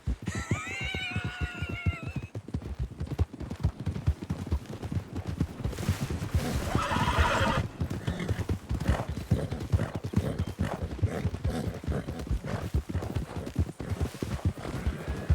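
Steady clip-clopping hooves of a horse in Red Dead Redemption 2 plod on throughout, with a couple of whinnying neighs near the start and a rustling swell midway; no talk.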